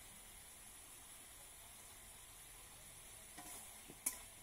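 Chicken masala is stirred and sautéed in a pan, giving a faint, steady sizzle with a few soft scraping stirs near the end.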